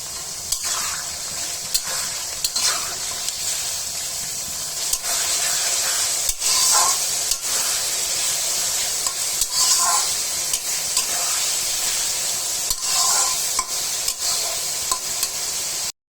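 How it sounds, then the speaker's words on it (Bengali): Carrots with onion and chicken powder stir-fried in a hot pan for fried rice: loud continuous sizzle with steam hiss and a spatula scraping and clacking at regular intervals throughout, close up and without talk. "গাজরও দিয়ে দিব একসাথে, ভাজা ভাজা হয়ে সিদ্ধ হয়ে যাবে।"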